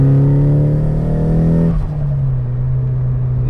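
A Nissan Silvia S15 Spec-R pulls away, its engine note strong and harmonic, then the revs drop sharply as the car shifts, leaving a lower steady drone close by.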